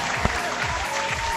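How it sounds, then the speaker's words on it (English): A crowd claps and applauds steadily, dense and close, with some voices faintly mixed in beneath the clapping. "We're going to give Loco an applause."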